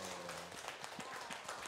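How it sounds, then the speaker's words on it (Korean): Faint applause from an audience at a Buddhist temple event, steady dense clapping heard from a distance with low hum underneath. "박수 한번 주세요, 여러분."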